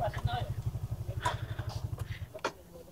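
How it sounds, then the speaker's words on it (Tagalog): A motorcycle engine idles close by with a quick, even low throb, mid-loudness, while a voice speaks briefly over it as the bike is being parked. "Paparada ko lang yung motor."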